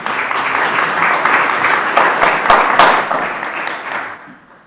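An audience at a public forum on marijuana legalization and youth breaks into loud, dense applause that holds steady and then fades away toward the end.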